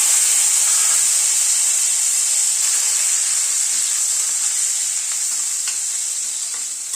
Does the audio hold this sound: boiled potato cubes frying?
yes